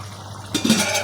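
Lid lifted off a pot of duck curry simmering in coconut milk: a short metallic clatter and scrape about halfway through, followed by a soft bubbling, hissing boil, close and moderately loud.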